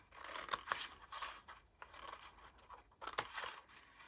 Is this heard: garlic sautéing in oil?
no